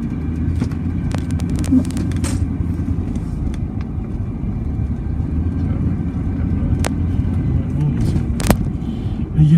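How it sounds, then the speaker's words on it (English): A car driving around a neighborhood, a steady low engine and road rumble heard from inside, continuous and fairly loud, with a few light clicks and knocks and a voice talking at times. "I'm driving around my neighborhood"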